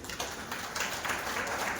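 An audience at a Rajyoga meditation talk claps in a sustained wash of applause, fairly soft and even, with no clear speech over it.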